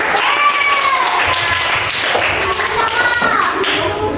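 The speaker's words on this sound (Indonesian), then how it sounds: "Oke, tepuk tangan." Classroom participants at a teacher-training session clap, with scattered hand claps and taps mixed under ongoing voices throughout.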